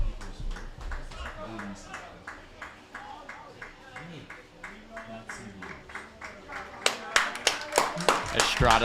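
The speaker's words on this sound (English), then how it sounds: "an extremely well-deserved applause as Yishak comes in." Scattered clapping from a small crowd at a varsity high school soccer semifinal, thin rhythmic claps that grow louder and sharper toward the end, with a commentator talking throughout.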